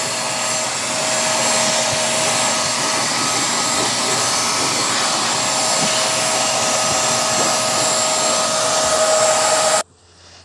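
A Shark MessMaster VS101 portable wet/dry vacuum runs with a steady, loud motor whine and airy rush, constant for about ten seconds before cutting off abruptly near the end.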